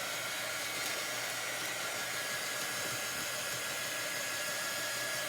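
A hair dryer blows steadily on chalk paste over a serving tray, a continuous close airy whoosh with a faint motor whine, unchanging for the full few seconds.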